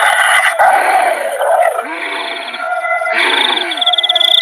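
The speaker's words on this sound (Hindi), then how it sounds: "चुड़ैल उन कैदियों को देखकर गुर्राने लगती है।" A cartoon witch growls menacingly at prisoners, a loud, sustained rasping snarl with wavering pitch that rises and falls, close and continuous throughout.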